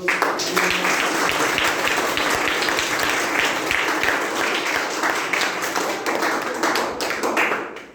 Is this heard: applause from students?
yes